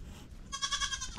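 A Nigerian Dwarf or Mini Alpine dairy goat gives a single short, nasal bleat that rises in the second half, fairly close and moderately loud over faint background noise.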